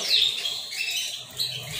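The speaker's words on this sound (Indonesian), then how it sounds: "LC adalah kenari Lancashire." A Lancashire canary gives short, bright chirps close by, a quick burst at the start and another near the end over a faint background.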